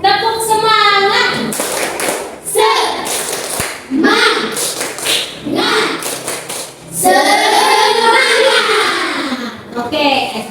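A classroom of children does a rhythmic spirit clap, bursts of hand claps mixed with loud group chanting and a teacher's voice speaking throughout.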